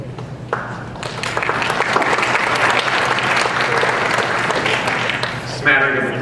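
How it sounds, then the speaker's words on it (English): Scattered applause from the audience at an athletic hall of fame induction ceremony, light clapping that builds and holds steady for several seconds, with a voice briefly heard near the end. "Smattering of applause, I appreciate that."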